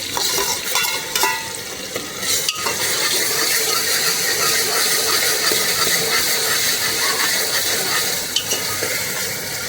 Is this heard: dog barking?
no